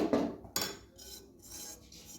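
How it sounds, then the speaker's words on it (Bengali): Hot, freshly steamed rice flour dough being mixed in a pot, with a couple of sharp metallic knocks followed by close scraping and rubbing of a utensil against the pot, no speech. "এবার আমি এটা মেখে নিব।"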